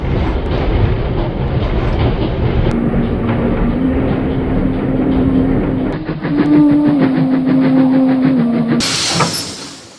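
A train travels along the rails, its loud steady rumble and rhythmic clatter continuing close by, with a sustained tonal whine rising over the wheels before the sound cuts off near the end.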